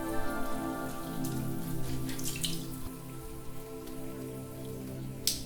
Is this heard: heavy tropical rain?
yes